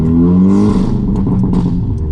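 An Audi S3 saloon with a loud, raspy aftermarket exhaust revs hard and close, a dense rumbling roar with voices talking over it.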